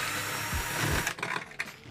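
A ratchet or driver clicks and turns 3/8 inch screws out of an RV air conditioner during disassembly. Close, brief mechanical ratcheting gives way to a few scattered clicks.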